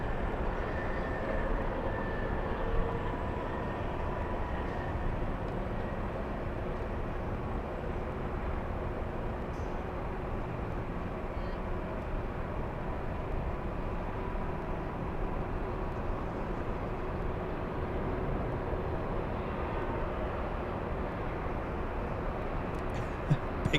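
An airplane on approach to land at LAX airport, a steady broad roar of engine and air noise holding evenly for over twenty seconds, fairly loud and continuous, with no one speaking.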